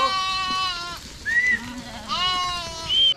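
A herd of goats being driven by a shepherd bleats in overlapping, wavering calls, loud and close, several animals crying one after another with a little talk underneath.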